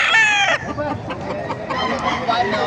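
Hens at the Baliuag market in the Philippines, with one rooster crowing loudly up close at the start, then a busy mix of clucking fowl and crowd chatter behind it.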